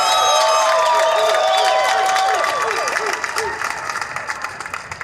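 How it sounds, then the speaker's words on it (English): A crowd at a rally at the California State Capitol cheers and applauds Alameda County firefighters, with steady clapping, shouts and shrill whistles that stay dense at first and then thin out toward the end. "This big round of applause for them."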